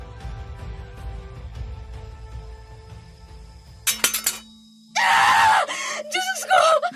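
A wife's loud, sudden scream bursts out in the middle of a tense scene. It is preceded by a short clatter that may be breaking glass. The scream is drawn out and close, and a second strained cry follows.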